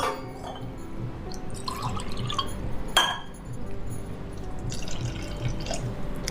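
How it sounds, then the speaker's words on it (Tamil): Curd and water poured from a steel tumbler into a semolina batter, giving a close, continuous liquid splash with a few clinks of metal and glass. "அரை டம்ளர் தயிர், 3/4 டம்ளர் ஜலம் விட்டுருக்கேன் அந்த டம்ளரால்."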